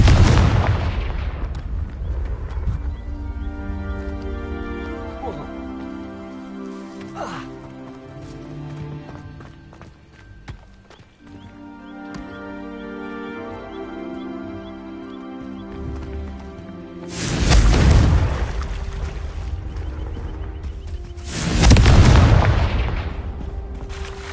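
Confringo fire spells in the Hogwarts Legacy video game blast out as two heavy, booming explosions late in the clip, amid layered game music and effects.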